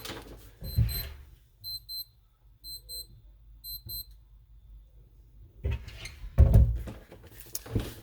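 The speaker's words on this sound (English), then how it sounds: "dang alarm's going off." Beeping alarm clock going off in repeated short bursts, four clusters of high electronic beeps, with rustling and handling noise before and after.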